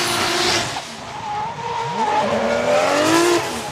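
Drift car at full throttle at Suzuka Twin Circuit, engine note rising and falling with sustained tire squeal and skidding as it slides through the corner, fairly close and continuous.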